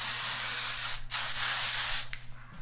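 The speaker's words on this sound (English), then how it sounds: "I'm going to spray." Makeup setting spray hisses from a mist bottle in two or three long continuous bursts, close and loud, with brief gaps between sprays.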